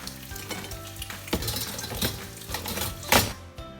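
Bacon sizzling in a frying pan alongside sausages, a continuous crackling fry with brief sharper spits and pops, close and moderately loud, no voices.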